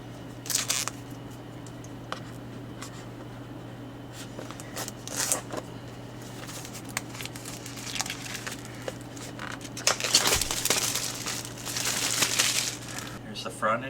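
Plastic wrap is peeled and torn off a DJI Action 4 Adventure Combo camera box. Close crinkling comes in scattered bursts and grows louder and denser near the end, with a voice speaking between them.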